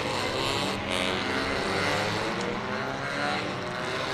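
Suzuki Swift Cup Europe race cars pulling away together onto the formation lap at Balaton Park, a loud dense engine roar that holds steady throughout with no pauses.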